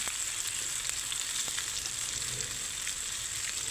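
Sliced onion and broccoli fry in butter in a pan, giving a steady, dense sizzle close up with no break and no talking.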